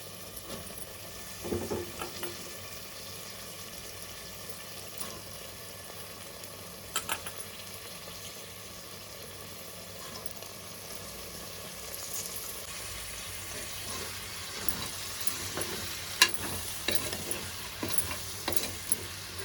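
Broad beans sizzle steadily in hot oil in a pan for a masala curry, with occasional scrapes and knocks of a spoon stirring, moderately quiet throughout without speech.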